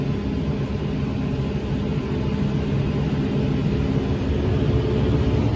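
A big forage chopper harvesting tall oats gives off a steady, loud mechanical rumble and whine throughout, continuous and unbroken, with no voices.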